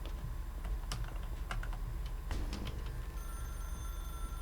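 A telephone rings in the Stanley Parable video game, its tone entering faintly in the last second or so. Before it, irregular keyboard clicks and taps are heard close by.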